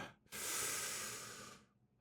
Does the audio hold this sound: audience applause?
no